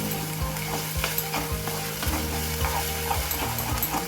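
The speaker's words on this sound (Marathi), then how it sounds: "हे वाटप असं थोडंसं तेलात परतून घ्यायचं मस्त." A ground Malvani spice paste for prawn curry fries in hot oil, a loud, steady sizzle broken by regular scraping strokes of a spoon stirring it, with no voices.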